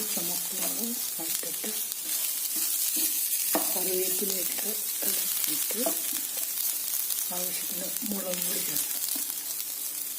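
Grated coconut roasts dry in a pan under a continuous hiss, with frequent scraping stirs and faint tonal voice-like sounds running underneath.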